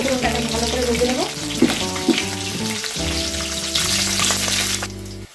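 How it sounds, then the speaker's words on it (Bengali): Dried red chillies, bay leaf and whole cumin fry in hot oil as a tempering for banana-flower curry. A loud, continuous crackling sizzle runs close to the mic throughout, with a steady tonal hum beneath it. "আর দিয়ে দিচ্ছি গোটা জিরে। লঙ্কাটাকে ভালো করে ভেজে নেব।"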